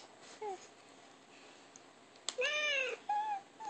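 A recorded cat meows several times from a toy laptop when its paw button is pressed: a faint short mew, then two louder drawn-out meows.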